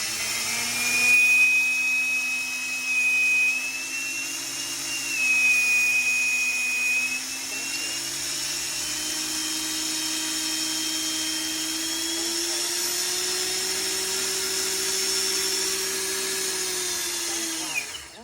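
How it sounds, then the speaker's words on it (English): An RC helicopter motor driven by a Hobbywing ESC spools up, a rising electric whine that climbs in pitch and holds steady, close and fairly loud, with no voices. "the helicopter should spool up right now"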